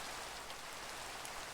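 Steady video game rain pours down as a dense, even hiss of drops, constant and moderately quiet with no voices.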